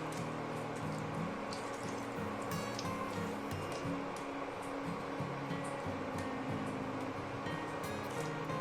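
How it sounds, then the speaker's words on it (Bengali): Water poured into a pan of simmering potol chingri, a Bengali pointed gourd and prawn curry, giving a steady close pouring and bubbling wash with faint ticking clinks running through it. "এইবার জল দিয়ে ঢেকে দেবো, পরিমাণ মতো জল দিও।"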